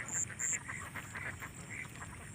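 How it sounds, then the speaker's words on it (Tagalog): Free-ranging ducks quack in short nasal bursts from a moderate distance outdoors near rice fields, with a soft background hum underneath. "kami na lang po ang may itik dito na hindi uh, nakukulong"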